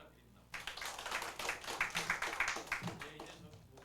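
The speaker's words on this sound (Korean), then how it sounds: "박수 부탁드립니다" An audience at a venture forum breaks into applause, a dense burst of steady clapping that starts suddenly and carries on for several seconds before tapering slightly.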